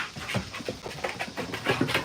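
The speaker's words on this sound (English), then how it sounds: "See, I told you they're good dogs." Pet dogs indoors pant close by in quick, rhythmic huffs, a steady breathy pulse with no voices over it.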